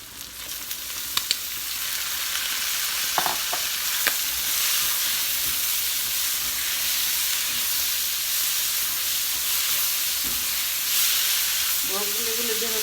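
Broccoli and shrimp stir-frying over high heat, a loud, dense, continuous sizzle and hiss with scattered spatula clicks and scrapes, close up, plus a brief voice near the end.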